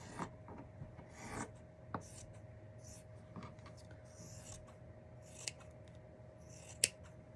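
Scissors snip through craft material for a miniature pill-bottle gnome valentine, a series of sparse, crisp cuts spaced irregularly with soft rubbing between them, close and fairly quiet over a steady background hum.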